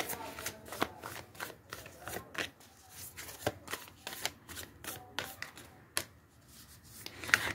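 Tarot cards are shuffled and drawn by hand in a quiet room: a steady run of soft, papery riffles and slaps, close and fairly faint, with a few sharper flicks near the end.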